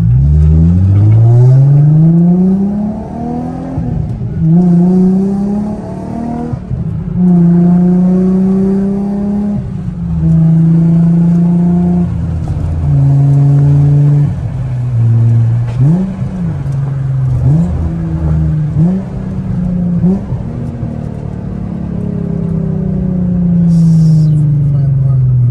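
A Nissan 350Z engine with a new Stage 2 clutch revs up and drops repeatedly through gear shifts, loud and close, its rising harmonic pitch sweeps cut by brief pauses between gears, with a voice speaking over it.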